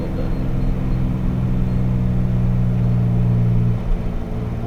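A boosted Nissan NISMO car idles and rumbles steadily up close, its engine tone rising slightly in a sustained drone before easing back, ahead of a launch.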